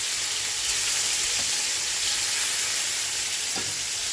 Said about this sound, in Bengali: আর এক পিঠ ভেজে নিচ্ছি